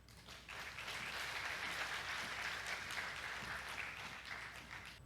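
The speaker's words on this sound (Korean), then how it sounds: "먼저 김재엽 전사님 박수로 맞아 주십시오." A church congregation at a Wednesday service in Busan applauds warmly as a preacher comes up to speak, sustained dense clapping that swells quickly and stays steady, fairly soft overall.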